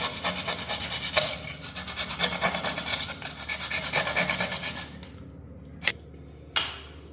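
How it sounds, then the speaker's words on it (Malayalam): A blade scrapes and saws back and forth through excess material while fitting a Hansgrohe thermostatic diverter selector switch, a steady rasping for about five seconds, then a quieter pause broken by two short sharp strokes, close by with no talk. "ബ്ലേഡ് വെച്ച് ഇത് കട്ട് ചെയ്ത് കളയാം."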